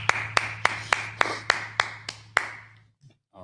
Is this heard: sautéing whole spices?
no